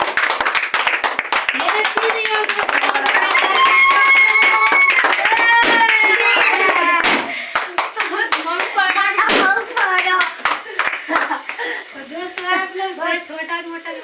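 Hands clap rapidly and closely at a small New Year cake celebration at home, sharp repeated claps with excited children's voices and chatter mixed in, the clapping thinning out midway.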